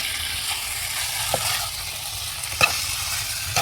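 Village-style chicken being stir-fried in a pan over a wood-fired clay stove, a continuous bright sizzle broken by a few sharp scrapes and stirs of the spatula.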